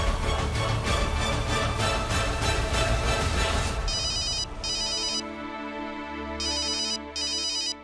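Mobile phone ringtone playing loud and close in a Hindi TV drama scene: a busy electronic melody that shifts to a repeating bright tonal ring pattern, continuous throughout with no talking.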